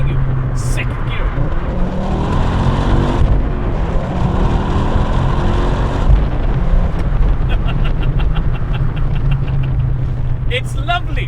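A 2009 Ford Focus RS accelerates hard in second gear, its engine roaring loudly and steadily from inside the car, with wind noise mixed in and a brief gear change near the end.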